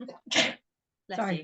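A single sharp human sneeze bursts out close and loud, set among brief bits of nearby speech before and after it.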